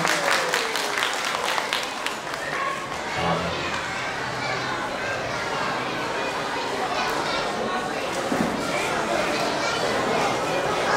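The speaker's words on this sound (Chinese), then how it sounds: "请热烈的掌声欢迎我们指导老师蔡昌俊老师。" An audience claps at an evening school music concert, a continuous wash of clapping with children's chatter and crowd noise mixed in, moderately loud and sustained throughout.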